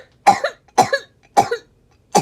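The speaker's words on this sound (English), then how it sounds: "Sorry, y'all, my coughing" A woman coughs in four sharp, separate bursts spaced about half a second apart, close and fairly loud, with near silence between them.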